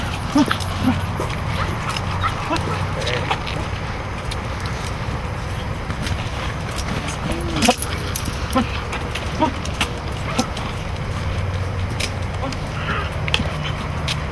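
A bully-breed show dog whimpers and yips while being moved and stacked in a ring, its small cries mixed into steady background noise, with someone talking throughout.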